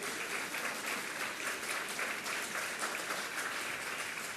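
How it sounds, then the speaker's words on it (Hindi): An audience at a Jain religious discourse breaks into sustained, even applause, many hands clapping at once with a steady roar and no voices above it. "अब बजाओ ताली।"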